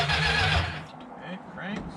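A 1969 Plymouth Fury with a big-block 400 engine cranks over in a short, rough whirring burst that fades after under a second, with voices nearby.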